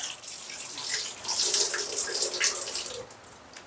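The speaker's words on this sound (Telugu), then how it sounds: "సో ఇట్లా ఇట్లా క్లియర్గా కడుక్కోండి" Food is rinsed under a running kitchen tap, a steady hiss of flowing water with splashing that rises and falls as the food is moved in the stream, with a small clink near the end.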